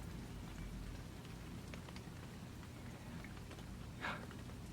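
Soft patter of many fingertips tapping together to imitate gentle rain, a faint, continuous light drumming with occasional louder taps, no talking.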